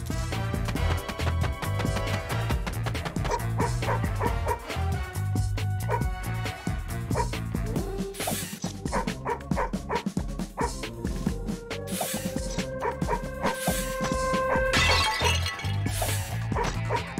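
A dog barks and yips in the Madagascar Escape 2 Africa video game, short sharp calls with crashes and shattering over loud, busy game music.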